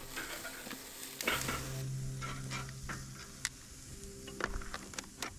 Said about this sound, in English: Let's start by searing the pork chops directly over the hot zone.